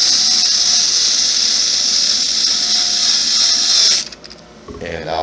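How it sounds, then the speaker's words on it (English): A power drill driving screws on an HPI Crawler King RC car whines steadily at a high pitch for about four seconds, then stops abruptly, leaving a few faint clicks and rustles. "I'm going to use the drill to get them close."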